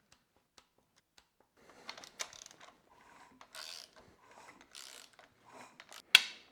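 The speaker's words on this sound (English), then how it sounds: "we will torque the camshaft bolts to 17 Newton meters" Torque wrench tightening camshaft bolts to 17 Nm on a BMW 525d diesel engine: faint scattered mechanical clicks and rattles, then one sharp, louder click near the end, close up in a quiet workshop.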